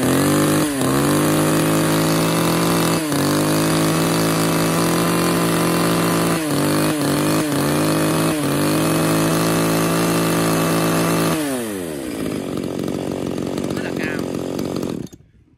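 A Tanaka chainsaw engine running on test, loud and close: a steady buzzing idle broken by several quick throttle dips and blips, then a rough wind-down before it cuts off at the end.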